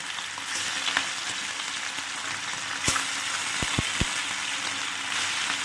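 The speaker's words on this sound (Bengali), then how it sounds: "মাছদের তো গায়ে হলুদ করে দিয়েছি, দিয়ে এবার আস্তে আস্তে করে একদম লো ফ্লেমে ভাজবে" Turmeric-coated nadosh fish fry slowly in oil over a low flame, giving a steady soft sizzle with a few sharp clicks and taps from the pan partway through.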